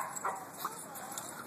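Dogs at a doggie daycare give a couple of short, faint yips and bark-like sounds within a brief stretch of background noise, heard from a moderate distance.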